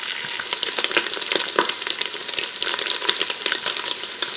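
Sausage frying on sear mode in a Ninja Foodi XL, a steady close sizzle and crackle with occasional brief pops and stirs, no voices.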